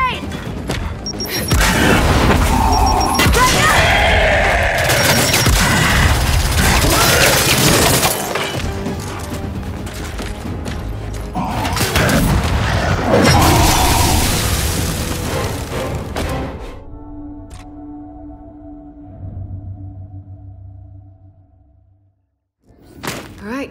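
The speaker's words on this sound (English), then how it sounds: "Throwing grenade!" A grenade blast in the video game Gears of War 5, a loud, long roaring explosion with crashing debris and shattering that rumbles for many seconds before dying away into quieter echoes and a low hum.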